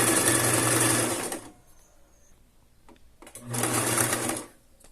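A home sewing machine stitches stretched elastic in fast-forward, sounding as two loud, dense whirring runs with a near-silent pause and a few faint clicks between them.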